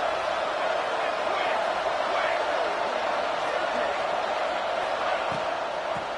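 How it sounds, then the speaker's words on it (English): Stadium crowd at an Oregon vs USC college football game, a steady, dense roar of many voices filling the whole clip without letup. "It's early, but this crowd is fired up. Listen to this noise here."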